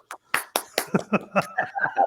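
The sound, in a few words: applause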